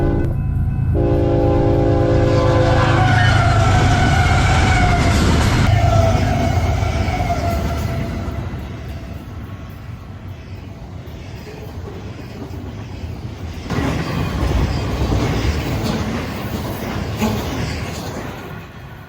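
An eastbound Z freight train passes with its horn sounding in long held blasts at the start, followed by the rumble and clatter of rolling railcars that fades, then swells again nearby.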